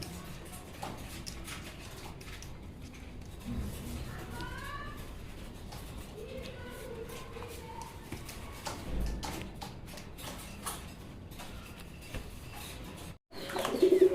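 Racer pigeons kept in cages, soft cooing calls rising now and then over a busy ambient background with rustling and clicks, fairly faint and spread out, ending in a louder burst of noise.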